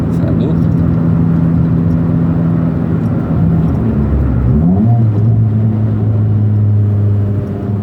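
Chevrolet Celta 1.0 VHC-E naturally aspirated with a cold air intake and RC filter, driven fast; a steady loud engine drone with a pitch shift partway through as it changes gear, heard from inside the car.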